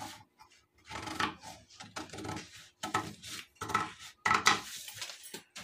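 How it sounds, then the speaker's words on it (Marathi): Scissors snip through cloth to cut a blouse sleeve, a close, dry run of short crunching cuts in irregular bursts with brief pauses between them. "आता ही बाही आपण कटिंग करून घेऊया।"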